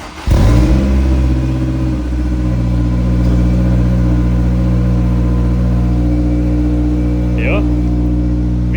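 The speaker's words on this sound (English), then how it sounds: "let's turn on the car really quick and see how it sounds with the new exhaust" A 90s JDM car fitted with a new exhaust starts up loud and close, then settles into a deep, rumbling idle that holds steady throughout.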